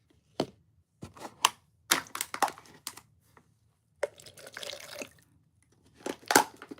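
A paintbrush being rinsed in a water bucket gives short, scattered splashes and taps, several separate bursts with quiet gaps between, close and clear.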